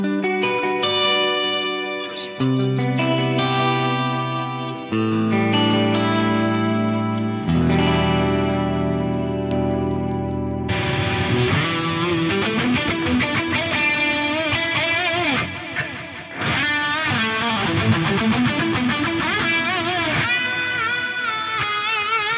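Synth chords played through a Korg DL8000R rack delay modulated by a sine LFO near 2 Hz, its repeats warbling and shimmering with slow pitch modulation, layered echoes building into a dense, swirling wash.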